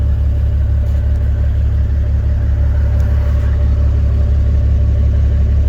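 A 2000 Peterbilt 379 truck with a Cat C12 turbo diesel engine idles smoothly at about 700 rpm, giving a loud, even, low rumble with a steady pulsing throb that holds constant throughout.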